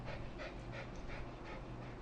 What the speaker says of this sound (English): My dog just joined us here.